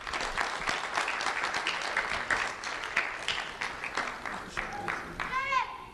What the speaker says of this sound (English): Let's have a round of applause for Elise Schwartz